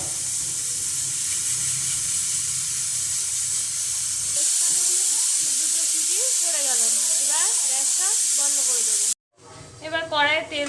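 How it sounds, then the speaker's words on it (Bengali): Steam hisses steadily from a pressure cooker set down after cooking mutton curry, a loud continuous spray that carries on under a woman's speech before it cuts off abruptly. "আর প্রেসারটা এই যে নামিয়ে রেখে দিয়েছি, ভাপটা মরা অবধি অপেক্ষা করবে।"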